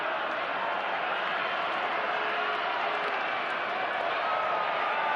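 Stadium crowd of Cardinals fans at a baseball game against the Rangers applauding Yadier Molina in the ninth inning, a steady broad wash of distant clapping and crowd noise throughout with murmured voices underneath.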